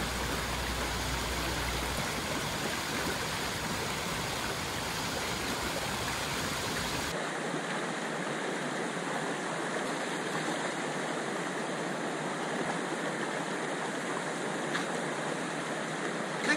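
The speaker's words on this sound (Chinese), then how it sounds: "变成瀑布，然后沿着这一条渠道流入到这个水坑中" A small waterfall drops from a weir and flows down a channel into a swimming pool on Hongye Creek on a hot summer day. It makes a continuous close rush of splashing water, loud and even throughout, with no talking.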